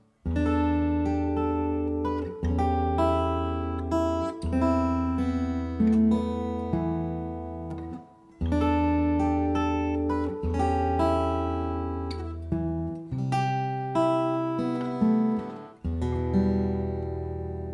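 An acoustic guitar plays a fingerpicked arrangement, melody over bass notes, phrases restarting every couple of seconds, close and clear with no voices.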